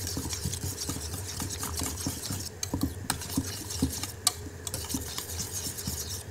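Eggs being mixed with sautéed onion and green chili for an omelette, a steady scraping and stirring rhythm with light taps against the bowl, close and continuous with no talking.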